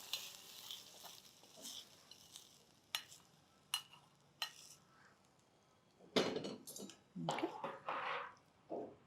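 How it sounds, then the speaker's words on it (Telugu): A fried tempering being stirred into yogurt in a home kitchen while preparing Ugadi festival dishes, heard as faint, intermittent spoon scrapes and soft wet squishes, with a few louder stirring bursts near the end. "తాలింపుని పెరుగులో చక్కగా కలిపేసి"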